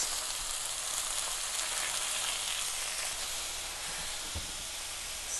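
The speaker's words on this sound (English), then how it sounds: "heat your 1 tablespoon of vegetable oil, and then we're going to brown the pork chops" Pork chops brown in a tablespoon of vegetable oil in a saucepan with a loud, dense, steady sizzle and hiss up close. A single faint knock comes near the end.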